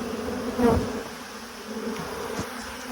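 Bees buzzing close by while a package of bees is installed in a hive, a steady drone with a brief louder pass, over a faint background hum.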